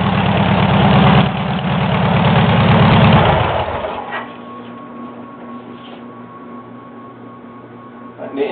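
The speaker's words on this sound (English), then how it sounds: "ratrod is supposed to be loud." A rat rod car built for car shows idles loudly nearby with a deep, rough, pulsing rumble, then drops abruptly to a quieter, steady idle hum until a brief rev near the end.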